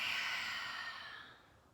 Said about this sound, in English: Taking a deep breath in and letting it out.